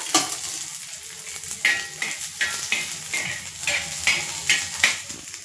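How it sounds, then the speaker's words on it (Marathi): Ginger and garlic roasting in oil in a pan for an egg curry masala: close, steady frying crackle broken by a regular rhythm of spoon strokes scraping the pan. "आता अद्रक लसूण टाकलंय तेल टाकून भाजून घ्यायचं"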